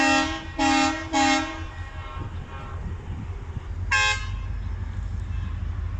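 Freight train hauled by an NLC locomotive at a railway station: three loud horn blasts in quick succession, then a fourth after a pause, over a low rumbling engine drone.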